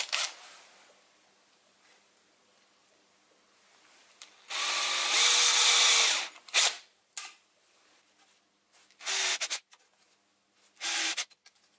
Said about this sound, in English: So this is a 3mm drill bit.